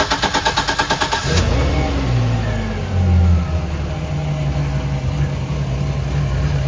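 A 4.5-liter MerCruiser 200 boat engine cranks with a rapid rhythmic chug, catches and fires up, then settles into a steady, fairly loud idle heard close by.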